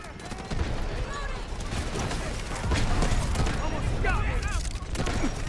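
Gunfire in the shooter game Delta Force, a steady rumble of shots and battle noise from various distances, heard beneath someone talking throughout.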